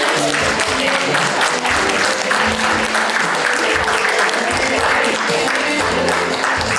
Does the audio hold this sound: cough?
no